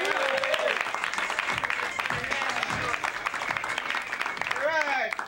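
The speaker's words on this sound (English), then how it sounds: "Big round of applause for Mr." An audience at a comedy competition in a café applauds a comedian coming to the stage, dense sustained clapping with cheering and a voice rising over it near the end.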